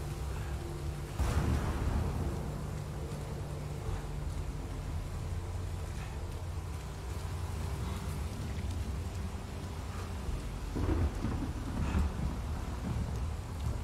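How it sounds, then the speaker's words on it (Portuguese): Torrential rain and thunder in the video game Uncharted 4, a steady loud downpour hiss with heavy low rumbles of thunder breaking in near the start and again toward the end. "Perfeito essa chuva torrencial caindo no personagem, a interação na roupa, no cabelo dele ficou muito massa."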